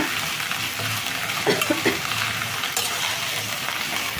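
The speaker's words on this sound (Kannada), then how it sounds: "ಬೆಂಡೆಕಾಯಿ ಚೆಂದ ಗುರ್ಕೊಳ್ಳೋಣ" Okra frying in a pan and being stirred, a steady dense sizzle with a few brief scraping strokes midway, loud and close throughout.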